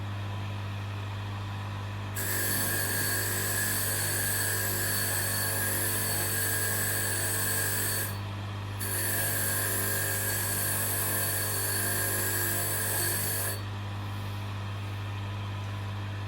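A cleaning motor fitted with a wire cup wheel scours a rusty pot joint, giving a loud, steady grinding whir in two bursts of about six and five seconds with a brief pause between, over a constant low motor hum.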